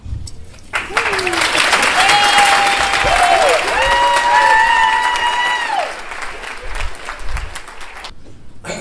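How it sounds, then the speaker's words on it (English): Applause at an accounting spring awards banquet: a room of people claps steadily for several seconds, with whoops and murmuring voices mixed in, rising quickly and tapering off near the end. "I would like to give you a round of applause for Professor Rosenthal."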